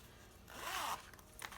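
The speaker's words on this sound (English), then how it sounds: "I was able to make a pocket with the zipper, and so this pocket opens" A zipper on a fabric pocket sewn into a Halloween travelers notebook is pulled open in one smooth, close rasp lasting under half a second, followed by a few faint rustles.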